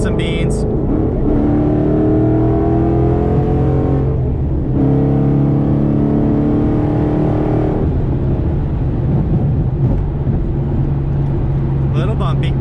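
Ford Mustang accelerating on the road, a steady loud engine drone with rising, sweeping tones as it pulls through gears, tire and road rumble underneath, and voices talking over it.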